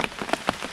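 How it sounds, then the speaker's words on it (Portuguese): Heavy rain falling in a jungle, a steady close patter of drops hitting surfaces with a few sharper splashes standing out, no voices. "mas a chuva tá caindo bastante água aqui, ó."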